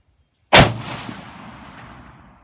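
A single sharp rifle shot from a Colt Match Target HBAR II AR-15 fired off a lead sled, loud and close, with a long reverberant tail that fades over two seconds.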